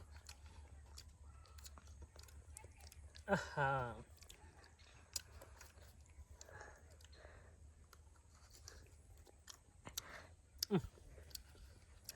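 Olives being chewed close up, soft wet crunching and clicking bites with short bursts, outdoors in a quiet village, with a person talking briefly.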